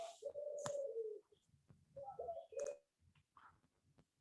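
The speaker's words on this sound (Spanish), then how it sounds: "O yo estoy alucinando y escucho palomas." Pigeons coo near a classroom during a history lesson: two soft, throaty cooing phrases, each about a second long, separated by a short pause, with faint background noise and no talking.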